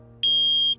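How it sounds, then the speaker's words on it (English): A single clean, high-pitched electronic beep sounds from headphones, steady for about half a second and then cut off, over a faint low hum. "The headphones beep 4 times."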